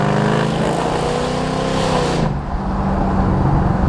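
A car with a straight-piped V8 engine driving, its loud deep exhaust rumble roaring under throttle then dropping sharply as the driver lifts off, continuing with a burbling, throbbing idle-like growl close by.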